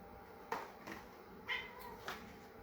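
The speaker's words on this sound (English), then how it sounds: "A cat yelling at my feet." A pet cat meows repeatedly at someone's feet during roast turkey preparation in a home kitchen, several short, insistent cries close by in a quiet room.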